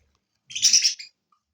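A pet budgerigar gives a single brief burst of bright, chattering chirps, close and clear against an otherwise silent indoor background.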